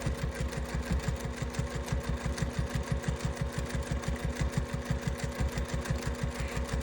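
A sewing machine stitches grippy fabric edged with bias binding at a quarter-inch seam allowance, giving a close, steady, rapid mechanical rhythm that runs without pause.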